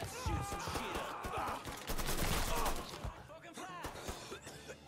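Video-game gunfire in Mafia III, rapid bursts and single cracks of shooting that cluster loudly through the middle and thin out toward the end, mixed with voices talking.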